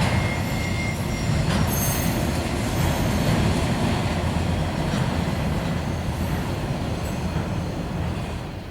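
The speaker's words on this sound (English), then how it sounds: "This right here is Norfolk Southern 6K4, an ethanol train headed for New Jersey." A Norfolk Southern ethanol freight train bound for New Jersey rolls past at Berea, Ohio with a steady, loud roar of wheels on rail, plus faint squeals and clatter from the cars, continuous throughout.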